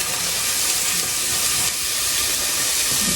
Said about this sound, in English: we're going to start by sauteing some onions in oil with a little dried rosemary